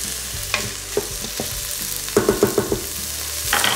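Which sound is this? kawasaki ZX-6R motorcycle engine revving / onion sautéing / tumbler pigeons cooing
onion sautéing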